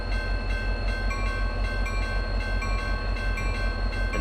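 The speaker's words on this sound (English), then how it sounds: "So we'll hear the train horn first before the train is about to move" Amtrak Superliner train in the video game RO-Scale Sandbox, a loud steady mechanical rumble with a rhythmic pulsing beat and faint sustained tones, no talking.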